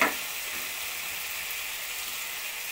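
Fried potato pieces dropped into cooked-down spices for a vegetarian ghugni, giving a steady close hiss of oil sizzling in the pan after a brief initial burst, with no voices.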